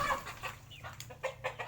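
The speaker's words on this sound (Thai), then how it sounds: "ไก่ที่สวยงามอยู่นะ" Black-bone chickens clucking as they run up in a line, a few soft, short, irregular clucks, fairly faint and close, with no talk.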